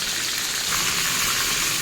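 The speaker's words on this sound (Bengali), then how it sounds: "এইভাবে উল্টে পাল্টে চিকেনটাকে পুরো ভেজে নেব।" A whole local chicken frying in a pan, giving a dense, even hiss of sizzling oil, close and steady for a brief moment with no voices.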